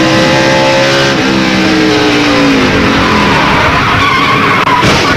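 A NASCAR stock car skids and slams into the wall during a 2002 Busch Series race, loud tire squeal and engine roar with other cars passing close by, continuous and dense throughout.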